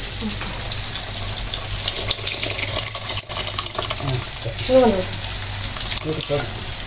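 Liquid pours into a hot pot of sambar with greens and toor dal, with a sizzling, bubbling hiss, while people talk nearby.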